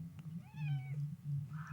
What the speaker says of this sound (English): Cat interrupting the vape video.